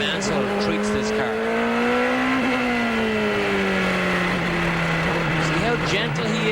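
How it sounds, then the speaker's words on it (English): Nigel Mansell's CART race car accelerates steadily on a wet track at Portland in 1993, its engine holding a continuous smooth drone with gentle pitch changes throughout, loud and close. "Driving in the rain requires a very delicate touch from the throttle."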